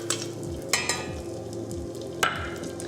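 Fennel, coriander seeds and fresh ginger frying in a pan for kitcheri, a steady close sizzle with a few sharper scrapes and stirring knocks, no talking.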